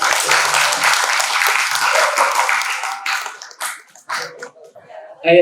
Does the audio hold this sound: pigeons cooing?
no